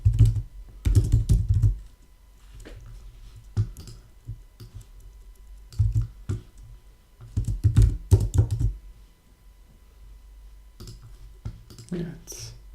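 Code being typed on a computer keyboard during a Swift programming session, with bursts of rapid key clicks separated by pauses, close and clear, with occasional talk between the bursts.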